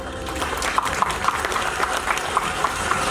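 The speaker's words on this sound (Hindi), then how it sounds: "तो जोरदार तालियों से स्वागत कीजिए" Steady, dense applause from a sizeable crowd at an academic awards ceremony, many hands clapping at once in a continuous wash with no break.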